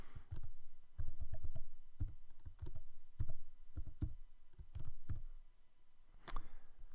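Keys on a computer keyboard clatter in quick irregular bursts as a password is typed, crisp and close in a quiet room, with a sharper click near the end.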